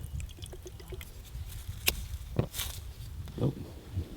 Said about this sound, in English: I left that hole in the top there to pour my fuel in.